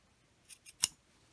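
Scissors cut a fabric corner at an angle for a garden apron: two small quick snips followed by a sharper closing snip, faint and close in an otherwise quiet room.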